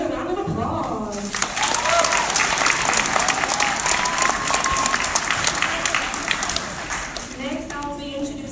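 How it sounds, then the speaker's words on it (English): Audience applause at a community changemakers pitch night in Tulsa, a sustained burst of clapping from a full room that swells, holds steady for several seconds and then tapers, with brief voices at the start and end. "Please give them another round of applause."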